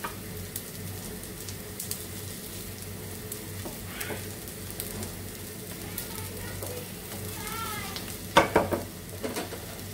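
Fish cutlets fry in a pan with a continuous low sizzle and light crackling, some faint clinks of utensils, and a few sharper pops near the end.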